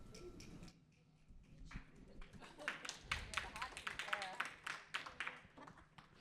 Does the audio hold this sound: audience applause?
yes